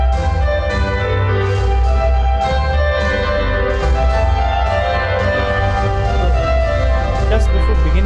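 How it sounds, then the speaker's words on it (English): Music drenched in heavy reverberation, notes blurring and echoing into one another in a dense, washy wash of sound at a loud, steady level. "if it was highly echoing and reverberating,"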